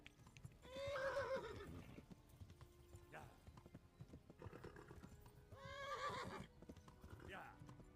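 Horse neighing twice in the video game Kingdom Come: Deliverance, two loud whinnies a few seconds apart over clopping hooves and background combat noise, with voices in between.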